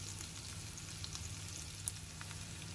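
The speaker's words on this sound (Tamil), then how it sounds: "பச்சை மிளகாய் வதக்கியாச்சு." Three finely chopped green chillies sauté in oil in a pan as mushroom masala is made, giving a faint, steady, even sizzle with occasional small pops and no talking.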